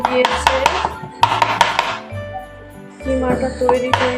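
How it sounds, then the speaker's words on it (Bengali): A knife chops chicken into mince on a board for a stovetop chicken pizza: quick, loud, rhythmic chops in several bursts with short pauses between. "আজকে আমি কিমা করব, অন্যরকম একটা পিৎজা তৈরি করব। আমি কিমাটা এখন করে নেব।"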